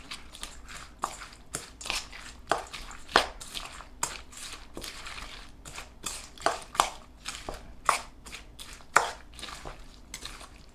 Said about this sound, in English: Now all the ingredients are in, so give it a quick mix.